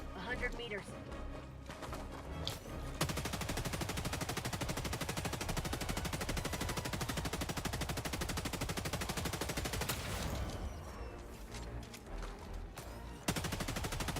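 Sustained automatic gunfire in Helldivers 2 rattles in long, loud, continuous bursts with a brief pause near the end before firing resumes; the shooting dominates the clip throughout.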